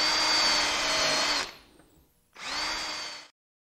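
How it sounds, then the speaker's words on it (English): A power drill driving screws through one board into another as a base for a chest on frame cabinet, whirring loudly for over a second, stopping, then running again in a second shorter burst, close and alone. "And I'm going to attach that with 6 screws and glue."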